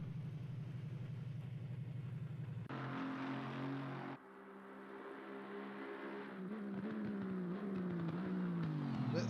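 An Aston Martin GT race car in a racing video game lapping the Spa circuit, its engine a steady loud drone that shifts pitch, drops briefly, then climbs again as it passes.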